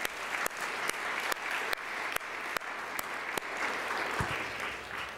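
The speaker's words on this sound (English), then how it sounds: "So please join me in giving them another round of applause." A school audience applauds after a student presentation, with steady clapping from a fairly large crowd at moderate distance. A few sharper individual claps punctuate the dense, even ovation.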